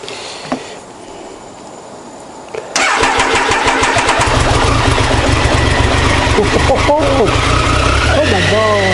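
After a couple of faint bumps, a Triumph Tiger motorcycle engine, unstarted for ten years, cranks and catches, then runs loud and steady close by, settling into a rough idle.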